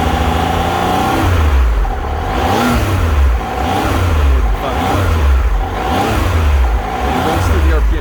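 A 2015 Triumph Tiger Explorer XC three-cylinder motorcycle engine revs repeatedly from idle, about five loud, close rises and falls in a steady rhythm.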